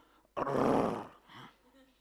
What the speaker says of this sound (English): The sound looks like a mixture of bleeping and roaring.